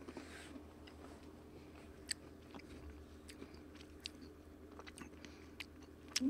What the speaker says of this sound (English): I'll stop chewing now.